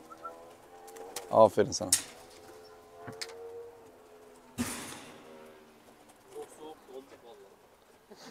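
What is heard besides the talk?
tumbler pigeons cooing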